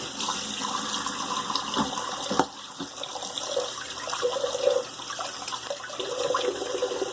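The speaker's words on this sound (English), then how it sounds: "let me get some water in this sink." Tap water runs into a bathroom sink before a shave, a steady splashing rush close by that shifts in tone as the basin fills, with a few clunks in between and no talking.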